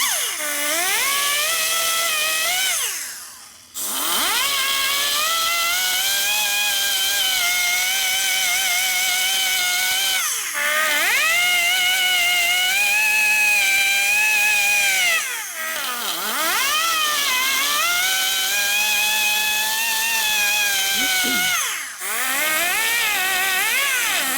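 A power grinder works aluminum on a 1952 Harley-Davidson Panhead four-speed transmission case, a loud, close, high whine that rises and falls in long passes with brief pauses between them.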